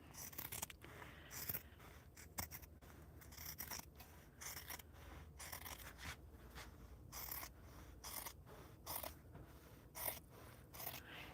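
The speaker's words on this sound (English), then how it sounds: "we're gonna just take our good fabric scissors and we're gonna cut through the" Good fabric scissors cut through sweatshirt ribbing, giving repeated crisp snips and scraping crunches in a steady irregular rhythm, close up and fairly quiet with no talking.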